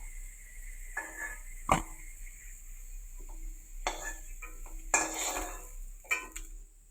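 Fried potatoes being lifted out of a pan while cooking chicken curry, quiet scrapes and several sharp metallic clinks of a utensil against the pan, with a faint sizzle between them.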